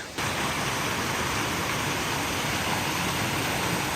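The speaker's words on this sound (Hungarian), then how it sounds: "Ott csobog a mélyben a víz" Water rushing and babbling deep in a gorge near Bled in Slovenia, a steady broadband wash that fills the whole clip at an even level after a brief quieter start, with no voices over it.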